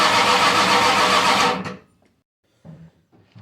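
A cammed 351 Windsor V8 fires up for its first start with a loud, rough roar that cuts out abruptly after about a second and a half, followed by a few faint knocks.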